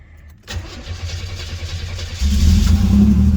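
An old Ford Model A sits in a shop as its starter cranks and the engine catches, then roars up louder into a deep, steady running rumble, close and strong, heard alone.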